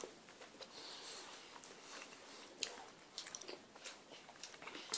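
Someone quietly chews a piece of dried cod, a snack from a Japanese box. Soft, irregular biting and crunching sounds play faintly over a low background hiss.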